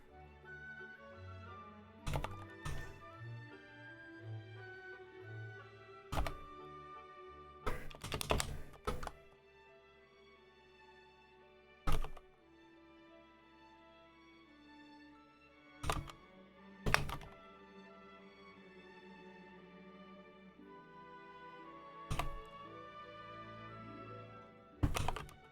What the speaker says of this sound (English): Keyboard noises, keyboard ASMR.